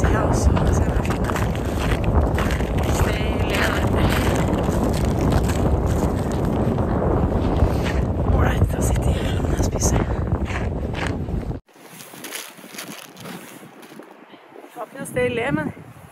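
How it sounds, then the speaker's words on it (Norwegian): Strong wind buffets the microphone on a rainy hike by a lake in Østmarka, a loud, continuous roar that suddenly drops to quieter gusts, with voices talking over it. "Det blåser så godt"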